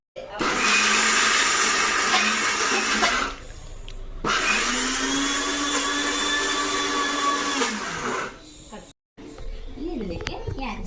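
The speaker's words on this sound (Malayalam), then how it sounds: "കുറച്ച് കുറച്ചായി നമ്മൾ രണ്ട് രണ്ട് സെക്ഷനായി അരച്ചു" A mixer grinder pulsing soaked lentils for parippu vada, two loud close bursts of whining motor with a short pause between, then a brief softer run at the end.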